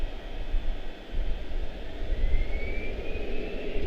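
Airbus A321 jet accelerating down the runway on its takeoff roll at Charlotte airport, a steady broad engine roar with a rising whine, distant and continuous.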